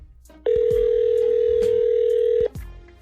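A steady telephone ringback tone sounds loud and close for about two seconds of an unanswered phone call, cutting off abruptly, with faint background noise before and after.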